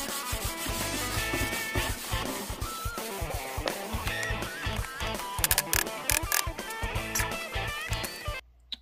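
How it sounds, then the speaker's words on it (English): Sandpaper rubbing back and forth along a Telecaster guitar fingerboard with clay dot markers, a steady close scratching with rhythmic strokes throughout. "A little bit more sanding."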